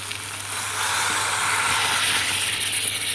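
Hot water poured into sizzling chicken curry masala, a brief quieter moment giving way to a louder, broad hissing sizzle that holds steady, close by with no talk.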